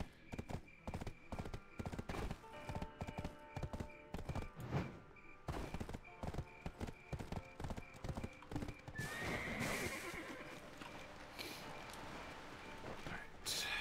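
Horse hooves clip-clop in a steady rapid rhythm in the Black Desert Online video game, joined by a loud whinny partway through, with a voice speaking briefly.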